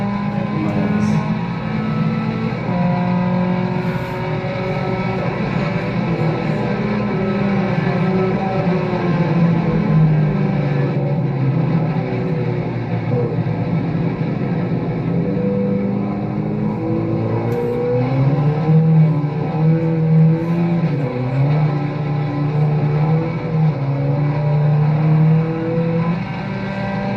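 A race car drives at about 160 miles an hour at night. A loud, continuous engine roar holds throughout, its pitch rising and falling as the car shifts and accelerates, with no talking.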